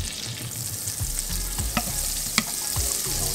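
Potatoes frying in a generous amount of butter in a pan give a steady, dense sizzle that runs throughout, broken by a few sharp utensil clicks and scrapes as they are moved around.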